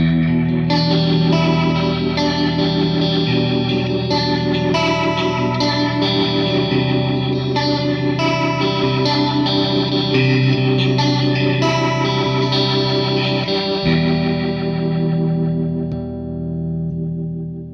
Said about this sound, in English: you can just ramp up and ramp down the rotary speaker sound from a Leslie